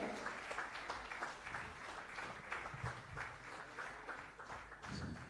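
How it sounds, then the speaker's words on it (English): An audience applauds continuously at a stock exchange listing ceremony for Chandan Healthcare Limited, gathered around the bell, giving dense, sustained clapping from start to finish with faint voices underneath. "I want huge round of applause, everybody"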